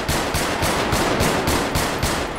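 Rapid automatic gunfire from a gang shootout in a video game, dense regular bursts hammering continuously and loud across the whole stretch, with no voices.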